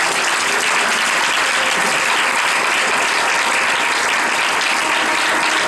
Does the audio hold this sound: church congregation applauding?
yes